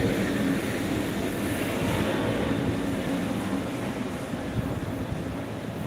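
Jet airliners on the ground at Phuket International Airport, an Emirates jet pushing back and starting up, give a steady, loud broadband engine roar and rumble that holds without pause and with no talk.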